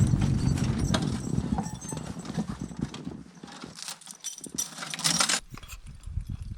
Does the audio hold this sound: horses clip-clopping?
yes